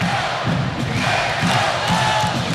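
A crowd of almost 6,000 at a volleyball match in the Stan Sheriff Center chants "Let's go Bows," a steady roar with rhythmic pulses heard from a distance.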